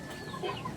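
A chicken that appears unsteady and unwell gives a few soft, short clucks, close by and faint, with a brief murmur of background noise.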